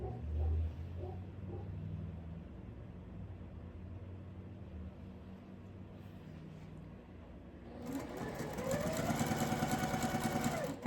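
A sewing machine chain pieces quilt fabric, a low hum at first that swells around the middle into a louder, steady buzzing run of rapid stitches, close by, with no talking heard.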